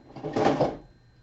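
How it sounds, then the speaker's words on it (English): Squeaky brayer roller pressed down hard onto a junk journal cover, giving one short, close rubbing squeal that swells and fades within about a second. "My squeaky brayer."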